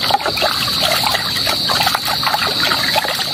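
Water runs steadily and spills over while dishes are washed, making a continuous close trickling and splashing that fills the whole stretch.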